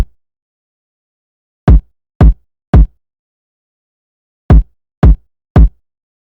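Double kick drum hits from a studio song in playback: two groups of three punchy, low thuds in quick succession, separated by silence, loud and dry with nothing else playing.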